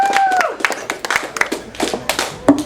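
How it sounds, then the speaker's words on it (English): A stand-up comedy crowd claps in a loose, uneven burst of individual hand claps, fairly close and loud, with a voice heard briefly at the start. "Clap louder, goddammit."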